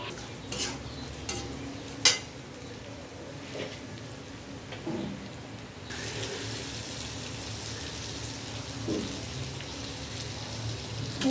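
Spatula stirring cumin and coriander powder into okra frying in a pan, scraping strokes over a steady sizzle that grows louder partway through.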